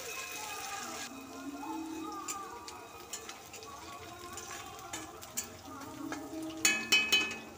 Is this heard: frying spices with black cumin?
yes